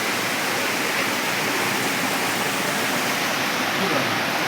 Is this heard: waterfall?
yes